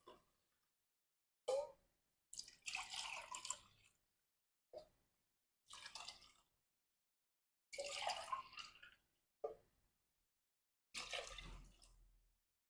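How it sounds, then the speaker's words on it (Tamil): Water splashes and trickles in short separate bursts into a pot while rice is being prepared for pressure cooking. Each pour lasts a second or two, with quiet pauses between, close and fairly soft. "இப்போது தண்ணி ஊற்றிக்கலாம்."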